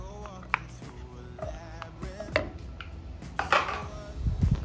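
Knife chopping onion, tomato and small bell pepper on a board in a home kitchen, with scattered irregular cuts and light clatters of dishes, no talking over it.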